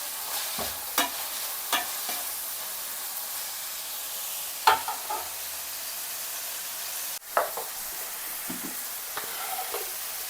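Boti (goat tripe) with onions being stirred and fried in a pan for a South Indian boti fry, a soft steady sizzle punctuated by occasional scraping and clinking stirring strokes, no talk.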